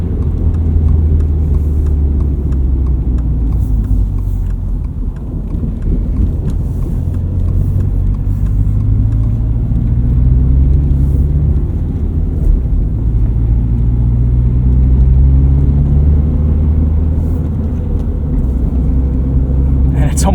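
A lifted 2022 Subaru BRZ on Falken Winterpeak winter tires drives through snow, its engine a steady close rumble with gentle rises in revs, while someone talks over it.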